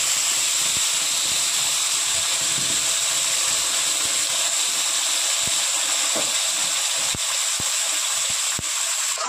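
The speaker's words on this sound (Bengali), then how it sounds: "আদা, পেঁয়াজ, রসুন আর টমেটোর পেস্টটা আমি ভালো করে কষিয়ে নেব।" Ginger, onion, garlic, green chilli and tomato paste frying in oil with nigella seeds, a loud steady close sizzle and hiss running throughout with scattered small pops and clicks, no talk.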